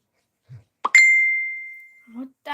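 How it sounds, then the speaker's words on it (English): Several electronic phone notification tones sound close by: a soft low blip, then a bright sustained ding that slowly fades over about a second, followed by more short chimes, with no talking. "Sounds the phone is making."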